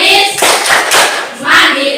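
A school class performs the rhythmic Tepuk PPK chant-clap, with bursts of many hands clapping together in patterned groups, loud and close, with voices mixed in.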